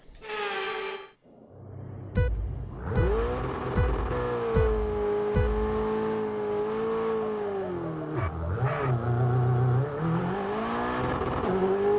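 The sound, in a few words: race car engine in F1 22 video game, Austrian autocross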